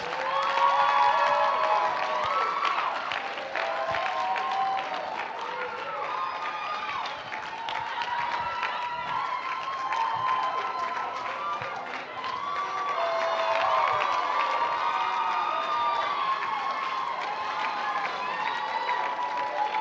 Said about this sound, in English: Let's give a big round of applause for all of our contestants tonight. Let's not stop clapping until they're all on stage.